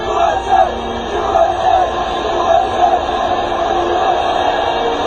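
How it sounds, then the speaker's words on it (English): A huge Yankee Stadium crowd at the 2001 World Series chants USA, a loud, sustained roar that swells and pulses in waves with shouts mixed in. "The crowd just erupts in a chant of USA."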